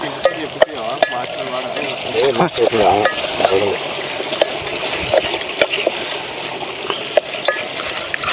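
Close, continuous sizzling and bubbling of village-style country chicken frying in a thick gravy, with scraping stirs and utensil clinks breaking through at intervals.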